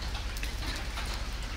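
Steady rain falling outdoors on a morning when cats are being fed, a dense continuous hiss with patter of drops on surfaces, close and even throughout with no voices.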